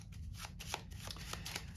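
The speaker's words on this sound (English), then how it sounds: "they can shuffle up this pile as much as they want" A pile of all-black playing cards is shuffled by hand, giving a continuous soft riffling and slapping rustle with a few sharper card snaps, close and alone.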